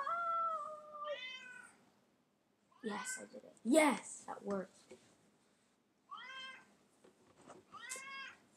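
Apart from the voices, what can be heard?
cat meowing in the background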